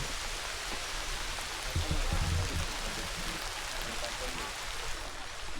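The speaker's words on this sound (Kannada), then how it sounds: "ಮಳೆ ಬಂತು" Steady rain falling in a botanical garden, a dense continuous hiss of drops on leaves and ground, fairly close and even throughout, with faint low rustling partway.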